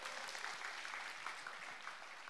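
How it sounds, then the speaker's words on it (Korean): Audience applause at a vocal academy closing concert in a hall, honouring a singer after an aria, a steady dense wash of clapping heard from a distance and fairly quiet throughout. "열창에 있는 우리 기승호님께 다시 한번 뜨거운 박수 부탁드리겠습니다"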